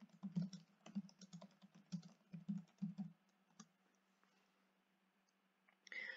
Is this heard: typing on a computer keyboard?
yes